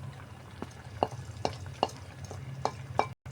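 Mutton keema with chopped garlic being stirred in a pan, a low sizzle under a series of sharp spoon scrapes and taps against the metal, about one every half second, close and fairly soft.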